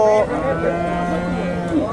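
Friesian and cross-breed bulls at the Mahasthangarh cattle market in Shibganj, Bogura, give a long, loud, close moo that fills the whole moment.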